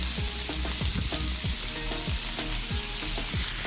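Seasoned sausage sears in a hot cast iron skillet with a steady loud sizzle and crackle, close up, accompanied by repeated scraping of a utensil stirring the pieces.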